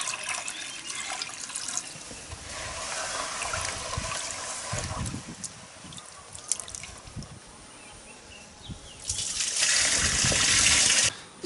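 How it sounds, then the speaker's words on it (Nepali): Paddy seed being washed in clean water, with sloshing and splashing water swelling and easing over several seconds, louder toward the end, close by with no talk. "यसरी नुन पानीको घोलमा छानिएको धानलाई सफा पानीले तिन पटक पखाल्नु पर्दछ।"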